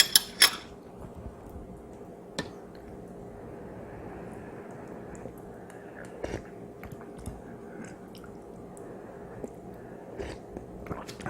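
Someone eats Samyang kimchi ramen with added bean sprouts and kimchi, tasting the broth first: soft, close chewing and sipping with occasional utensil clinks, quiet and intermittent.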